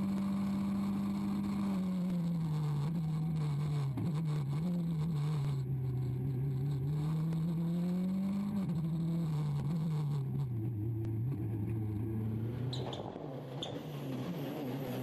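A Ford Focus WRC rally car on a stage at the Rallye du Condroz 2011, its engine droning loudly and steadily, with the pitch rising and falling through gear changes before it eases off near the end.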